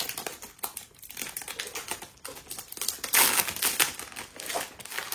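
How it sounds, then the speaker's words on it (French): A perfume gift box being unboxed, with dense, close crinkling and rustling of packaging, rapid crackles and a louder burst of crumpling midway, intimate and continuous with no voices. "Donc on va ouvrir ça. Petit moment ASMR d'unboxing."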